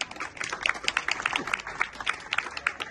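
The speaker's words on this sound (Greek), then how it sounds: "τον Βασίλη τον Παράσχου, χειροκρότημα" Applause from an audience at an AEK fans' club awards evening, a steady wash of clapping with distinct sharp claps standing out, mixed with faint crowd noise and background voices.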